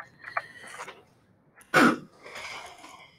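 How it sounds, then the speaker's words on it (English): A single sharp sneeze bursts out near the close mic, preceded by soft throat and breath noises, then fades into quieter sounds. "now I'm sneezing."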